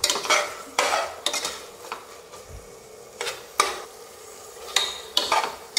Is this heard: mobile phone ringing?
no